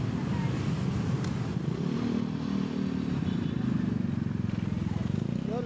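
A motorcycle on a busy street rumbles steadily nearby amid traffic clatter and wind noise, with people talking over it throughout.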